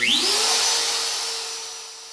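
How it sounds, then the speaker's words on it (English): A CNC router spindle spinning up to speed while machining a guitar body, a rising high whine that settles into a steady, close tone, gradually fading, with no talking. "So I'm going to turn the spindle on."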